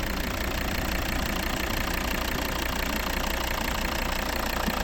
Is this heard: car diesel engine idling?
yes